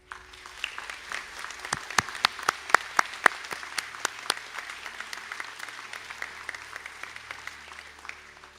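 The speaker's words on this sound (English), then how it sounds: "stand now for a round of applause" Graduates at a college conferring ceremony in Sligo receive sustained applause from a seated audience, with sharp individual claps standing out early over a dense, steady wash of clapping in a large hall.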